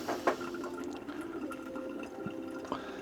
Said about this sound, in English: Now what I've done is turn a tap on, it's trickling.